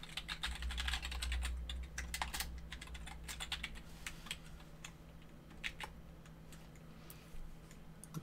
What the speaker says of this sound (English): I'm failing at typing quite a bit